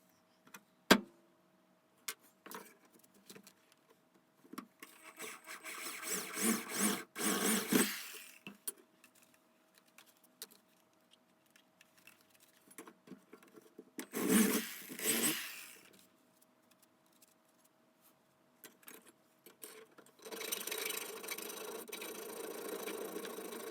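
A drill bores a hole through a metal fuel pump bracket for a BMW E30 325i, with bursts of whirring at about five to eight seconds and again around fifteen seconds, separated by clicks and handling noises, then a steady hum.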